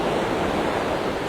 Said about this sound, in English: Waves are putting me to sleep.